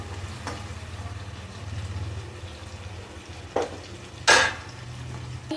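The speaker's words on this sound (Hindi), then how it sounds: "अगर हम प्याज अच्छे से ब्राउन करेंगे, गोल्डन करेंगे" Onions frying in a pan while being browned to golden for chicken biryani: a steady low sizzle runs throughout, broken by a few sharper bursts of spattering or stirring near the middle and end.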